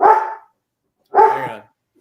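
Dogs bark in a quiet room, two loud, close barks about a second apart with silence between them.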